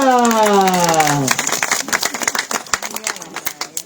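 Hands clap at a birthday celebration, a quick run of uneven, close claps that starts right after a short falling voiced tone and carries on steadily to the end.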